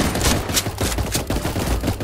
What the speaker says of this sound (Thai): ตอนนี้จะยินแต่เสียงปืน